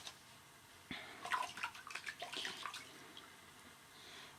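Soft splashing and trickling water as it is added to a So Sharp limited shaving soap while lathering, with faint dabbing and swishing close by.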